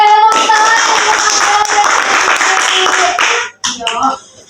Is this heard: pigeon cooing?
no